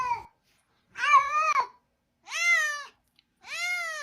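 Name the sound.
cat yowling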